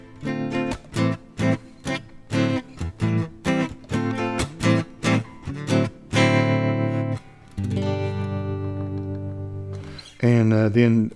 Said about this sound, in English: Middle pickup sounds kind of like this.